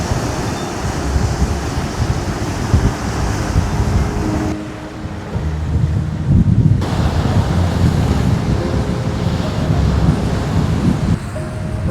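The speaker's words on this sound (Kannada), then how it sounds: "ಬಟ್ ಬೇ ಆಫ್ ಬೆಂಗಾಲಲ್ಲಿ ಮಾತ್ರ ಅಲೆಗಳು ಸಖತ್ತಾಗಿ ಹೊಡಿತಾ ಇದ್ದಾವೆ ನೋಡಿ." Strong surf from the Bay of Bengal crashes steadily onto the shore at Dhanushkodi, a continuous loud wash of breaking waves mixed with gusty wind buffeting the microphone, with no one speaking.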